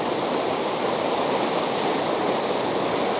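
High, turbulent river water in a trout stream churns with a loud, unbroken broadband rush. It sounds close and steady throughout, with no voices over it.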